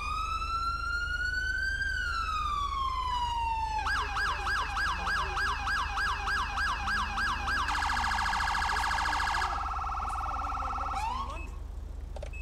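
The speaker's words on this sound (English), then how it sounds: "I think the new sirens are a great addition" A synthetic police siren in a video game cycling through several patterns: a rising tone, rapid wailing yelps, then a high steady warble, loud and continuous over a low hum.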